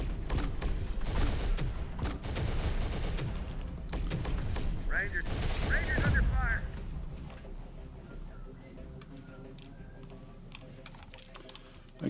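Rapid gunfire crackles in a Terminator: Dark Fate Defiance battle, bursts of dense shooting and clatter running through the first half before easing into quieter ambient game sound.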